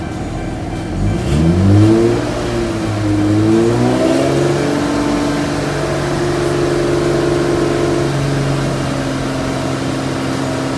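A Dodge Charger V6 engine is revved from idle to around 2,000 to 3,000 RPM in a few quick rising blips, then held at a steady elevated hum, close and fairly loud with no talking.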